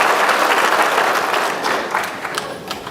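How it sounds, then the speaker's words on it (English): A large audience at a Reagan Foundation event applauds steadily and loudly before a speech, dense clapping that holds for the whole stretch and thins slightly toward the end. "it always concerns me when people applaud that much before I speak"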